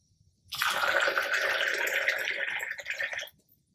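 Water poured into the tank of a VH 600 two-in-one hydrogen generator, a steady splashing stream running for about three seconds at close range before stopping, with no talk over it.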